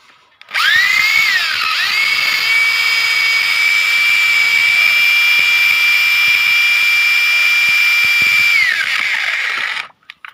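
A power drill fitted with a homemade welded mixing paddle spins up sharply in cement mortar and runs at a steady, loud high whine for several seconds before winding down and stopping.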